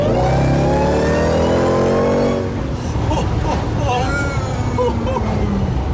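A rebuilt, previously wrecked 2018 Jeep Trackhawk engine revs loud and close with a rising whine, then settles into a rough, broad roar.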